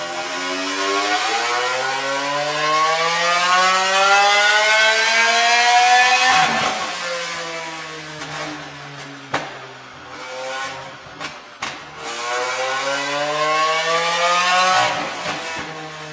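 A Lamborghini Aventador V12 fitted with a concept exhaust revs on a dyno: two long, loud climbing sweeps of engine howl, close up, separated by a pause with brief clunks and quieter idling.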